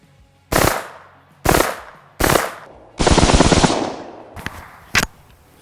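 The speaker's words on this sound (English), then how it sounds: "Got 18 hollow point critical defense Hornady rounds in the vest." Hornady Critical Defense hollow point rounds fired full auto into a BulletSafe vest: three short, loud bursts, then one longer sustained burst, followed by a quieter rattle and a final sharp crack, with brief silences between.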